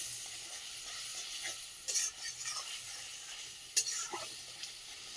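Ginger, garlic and poppy-seed paste with turmeric and a splash of water being stirred and fried in a pan, a steady soft sizzle under scraping strokes, with a couple of sharper spatula clacks; no talking.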